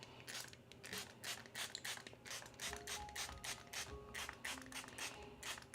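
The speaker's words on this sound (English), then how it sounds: "I just like to spritz all of them anyway" Repeated short, hissy spritzes from a spray bottle onto dried watercolor paints, several quick bursts in an irregular rhythm, close by with some light clicking between.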